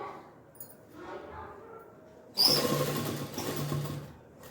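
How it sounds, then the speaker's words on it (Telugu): Sewing machine running in a burst partway through, stitching the side cut of a Punjabi dress top; a steady mechanical whir rises suddenly after quieter room sound and continues to the end, close and fairly loud. "ఇక్కడ వరకు స్టిచ్ వేసేసుకున్నాము"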